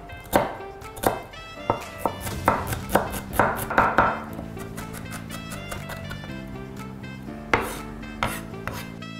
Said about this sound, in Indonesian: Ini juga kita cincang ya.